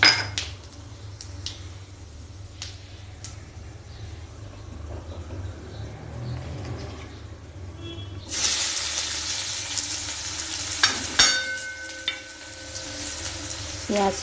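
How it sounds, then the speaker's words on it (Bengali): Cumin powder and whole garam masala hit hot oil in a tempering for a banana-flower (mocha) dish, giving a soft background bubbling that jumps into a loud, bright sizzle partway through, with occasional clinks of a utensil against the pan. "এই ফোড়নে দিয়ে দিচ্ছি জিরের গুঁড়ো, আর গোটা গরম মশলাটা দিয়ে দিলাম"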